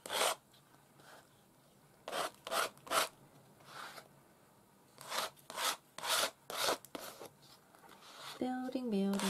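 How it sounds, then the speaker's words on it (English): Material scraped across a mixed-media page to build layered texture, heard as a series of short, loud rasping strokes in bursts with pauses between them, close to the microphone. "Just scrape that on, and that's going to create more texture."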